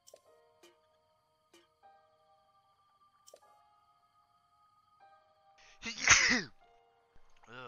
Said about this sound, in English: Sorry, puppy, didn't mean to sneeze on you.